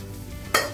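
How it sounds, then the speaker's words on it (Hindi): Fish pieces fry in a pan in a home kitchen, a low hiss that breaks into a short, brighter sizzle burst partway through the brief moment. "इधर मछली फ्राई हो रहा है"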